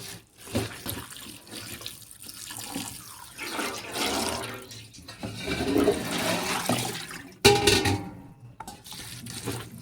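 Vegetable peels of bottle gourd, potato, pointed gourd and pumpkin being washed in plenty of water in a bowl, with close sloshing, splashing and trickling water, a few soft clinks, and a pause before a final splash.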